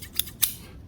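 Two quick, crisp snips of scissors cutting along a traced line on a dimple die gusset template, a sharp close snip followed by a louder one, with nothing else audible.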